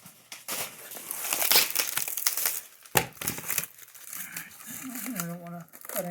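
Packing material crinkles and rustles while a Bafang 750W 48V e-bike motor is unboxed, with irregular crumpling and a sharp tearing snap, close by, and a person speaking briefly near the end.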